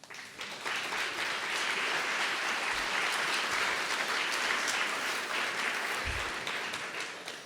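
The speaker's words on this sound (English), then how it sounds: "Let's give them a round of applause." An audience at a trauma symposium applauds steadily for several seconds, a dense wash of clapping that swells, holds, and tapers slightly at the end.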